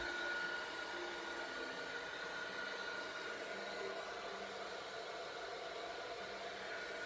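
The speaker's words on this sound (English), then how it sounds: "And I'm going to heat emboss that." A heat tool blows steadily for several seconds to melt embossing powder on a handmade card, a constant hairdryer-like roar of broadband air with a faint whine, close and alone.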